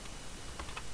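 Brief keystrokes on a computer keyboard while entering VB.NET code, a couple of light clicks close up over faint background hiss.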